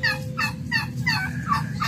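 A turkey gobbling among backyard chickens and ducks, several quick rattling gobble calls in a row, close and clear with no talk.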